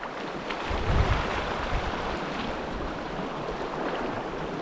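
A small, cold high-mountain stream flows steadily with a broadband watery rush, close and continuous, with a brief louder swell near the start and no voices.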